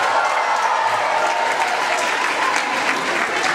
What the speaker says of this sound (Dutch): Applaus voor meneer Pietersen.